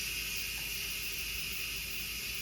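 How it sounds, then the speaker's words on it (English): Steam hisses steadily out of an Instant Pot pressure cooker during a quick pressure release, a constant, fairly quiet whoosh that holds without a break, with no one speaking. "we're going to quickly release the steam and the pressure out of our pressure cooker"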